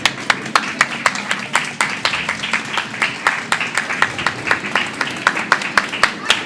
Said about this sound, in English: And applause in the warm room for the teams that came in off sheet B right now.